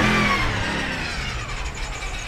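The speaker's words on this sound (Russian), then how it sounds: "Сзади BMW газуют." BMW cars rev their engines somewhere behind at a used-car lot, a low rumbling roar that is loudest at the start and then eases off into a steady drone.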